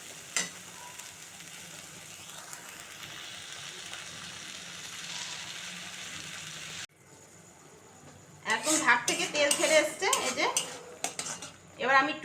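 Hilsa fish curry sizzling in oil in a pan, with a steady fry hiss at first, then bursts of metal spoon scraping and stirring against the pan, clattering loudly in the second half.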